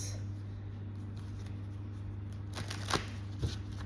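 Angel cards for a romance reading are shuffled by hand, soft riffling and brushing of card stock building into a couple of sharper flurries toward the end over a steady low hum.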